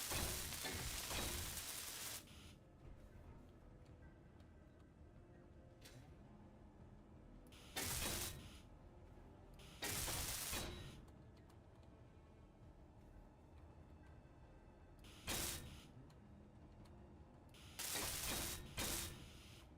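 A welding tool on armor plate in the video game Space Engineers gives short bursts of hissing, crackling spray, with quiet gaps between them and no talk.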